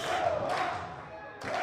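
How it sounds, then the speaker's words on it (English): A baseball crowd at a Hillsboro Hops game chanting "let's go Hops" in a tied extra-inning contest, a loud continuous roar of many voices filling the stands with a brief dip near the end. "Many in the crowd on their feet chanting, let's go Hops."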